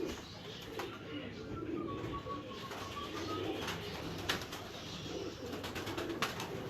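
Pigeons coo softly on a rooftop in Islamabad, repeated low calls under a murmur of background noise and faint distant voices.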